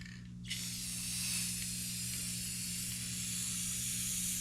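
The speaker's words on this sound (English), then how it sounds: "So you're going to take your dowels, and these, we're going to spray paint them quick." Aerosol spray paint hisses in a steady, close, continuous stream as wooden dowels get a coat of black for homemade crow decoys, starting after a brief quiet moment and holding at a fairly even level.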